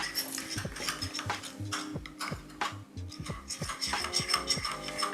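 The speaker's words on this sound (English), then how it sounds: "just kind of lightly stir that in" A tablespoon of honey being lightly stirred into a bowl, with soft clinks and scrapes of a utensil against the dish in a loose, uneven rhythm, close and fairly quiet.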